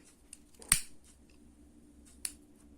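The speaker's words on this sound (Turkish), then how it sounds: "Sonra daha kısa kesip yapıştırıyorum buraya." Scissors snip through nylon cord being trimmed shorter for a crocheted bag, one crisp close cut followed by a fainter second snip in an otherwise quiet room.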